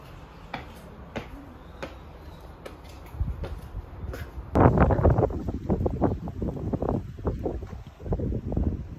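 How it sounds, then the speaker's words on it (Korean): Strong wind buffeting a microphone outdoors, rising into loud, gusty roaring bursts halfway through after a quieter start with a few sharp clicks. "바람 너무 많이 불어."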